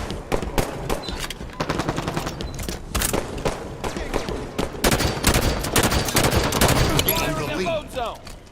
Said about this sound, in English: Gun. Sniper rifle,